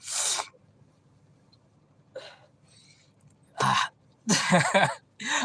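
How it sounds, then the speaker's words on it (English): Several short, breathy nasal bursts with quiet gaps between them, close and fairly loud, like repeated wet sniffing through a congested nose. "I'm sniffing. My nose is really, really running."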